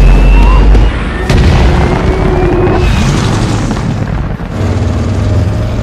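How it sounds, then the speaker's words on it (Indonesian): Oil tanker trucks overturning and exploding in an action movie scene, a heavy booming blast and deep rumble that rolls on with debris and crackling noise, loud and dense throughout. "menabrakkan truknya ke tangki minyak dan menyebabkan 3 truk milik Owen terbalik lalu meledak."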